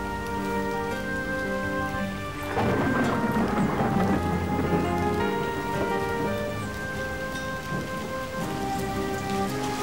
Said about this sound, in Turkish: Yağmur. Yağmur, yağmur.